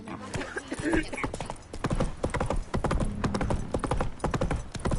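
Horse hooves clip-clopping at a steady trot while riding in a video game, close and continuous, with a voice speaking over the rhythm.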